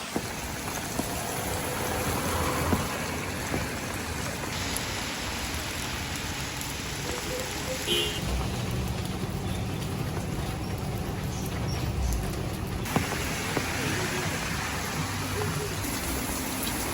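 Steady rain patters continuously on surfaces in Shanghai, a dense hiss of droplets close by with occasional louder drips and faint background activity.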